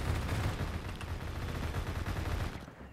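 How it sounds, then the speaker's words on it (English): A long, continuous burst of LMG machine-gun fire in Phantom Forces, heavy and loud with rapid rattling shots that stop abruptly just before the end. "Somebody just decided to dump an entire mag of an LMG over here"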